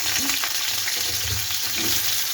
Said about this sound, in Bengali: এখন আলুটা ভেজে আলুটা দিয়ে দিচ্ছি